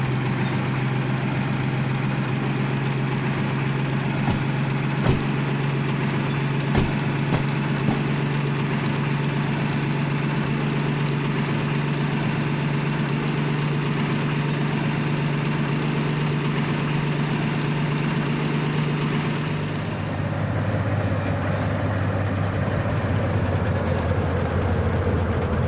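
Steady low diesel locomotive engine drone in the Derail Valley train simulator, idling and running continuously at moderate loudness, shifting to a slightly different note near the end as the throttle changes.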